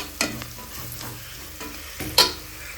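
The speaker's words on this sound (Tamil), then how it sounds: "எல்லாத்தையும் போட்டாச்சு, இன்னும் நல்லா வதக்கிக்கலாம்." Biryani ingredients, coconut biryani, sauté in a pan with a low background sizzle, punctuated by a couple of sharp spatula scrapes and clanks as the mix is stirred.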